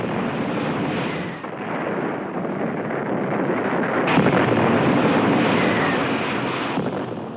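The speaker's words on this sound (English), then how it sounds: "Nixon responded with more air attacks." Aircraft carrying out a bombing air attack produce a continuous roaring, windy rush that swells slightly near the middle and holds steady, loud and unbroken, with no voices present.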